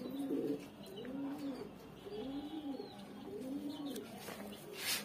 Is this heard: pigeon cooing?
yes